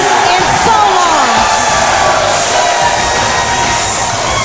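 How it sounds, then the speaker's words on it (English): A packed, record-attendance wrestling arena crowd in Houston, Texas roars and cheers loudly and continuously, with shouts and whoops throughout. "I haven't heard a crowd this loud in so long."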